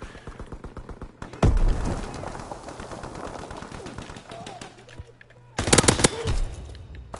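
Gunfire in Call of Duty WWII: rapid rattling bursts of automatic fire, loud and close, with a dense volley early on and another sharp burst near the end, while players talk over the shooting.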